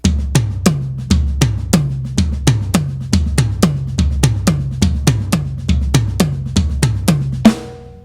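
A drum kit plays a faster tom groove, with a rapid, steady stream of loud tom hits and quiet ghost notes underneath, ending on a cymbal crash, close and alone.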